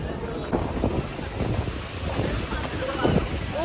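Strong wind blows dust through the open air, buffeting the microphone in uneven rumbling gusts, while people talk intermittently under the noise.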